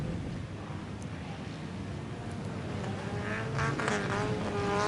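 At the Humberstone Eve of Destruction, race car engines drone in the distance and then swell into a rising whine as the cars come closer. Faint voices sit beneath the engine noise.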